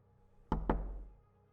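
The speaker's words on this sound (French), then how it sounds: "Si vous pouvez frapper à la porte, c'est sûrement que vous pouvez parler." Two sharp knocks on a door, close and loud, quickly followed by a short booming decay in an otherwise quiet room.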